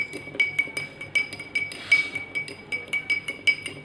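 A spoon stirs salt into water in a glass, giving a steady run of bright, close clinks against the glass at a quick, uneven rhythm, with no talking.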